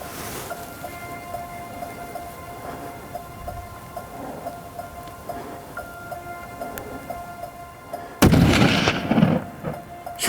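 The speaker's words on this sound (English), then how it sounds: "Shoot him again. You got him." A single loud rifle shot cracks during an elk hunt after a stretch of quiet outdoor background with faint ticking, and its echo rolls away for a couple of seconds.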